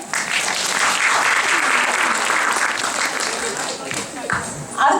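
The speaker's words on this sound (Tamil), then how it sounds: "இன்னொரு தடவை கைத்தட்டுங்க" Loud, sustained audience applause at a Tamil community Pongal festival celebration in 2014, with many hands clapping in a thick, even roar that fades slightly near the end.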